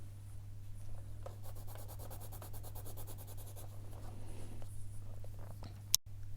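Caran d'Ache Luminance colored pencil sketching on paper, a soft continuous scratching and rubbing of the pencil tip in quick back-and-forth strokes, close and quiet, ending with a brief click.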